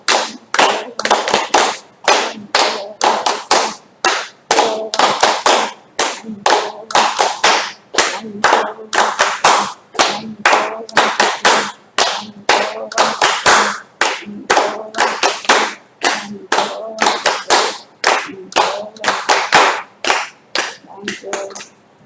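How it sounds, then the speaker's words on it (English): Rhythmic group clapping at a yoga session, a long run of sharp, evenly spaced claps in steady beats, loud and close, with a voice counting along faintly between them. "We now thank all the corona soldiers by clapping 10 rounds."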